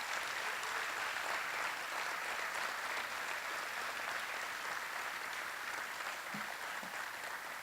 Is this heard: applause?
yes